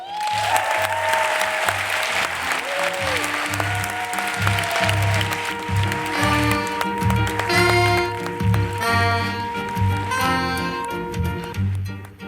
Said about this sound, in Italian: Voi invece potete applaudire